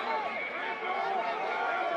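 Crowd at a boxing arena during the Vergil Ortiz Jr. vs. Erickson Lubin fight, a sustained, distant roar of cheering and chatter that stays fairly even and quiet throughout.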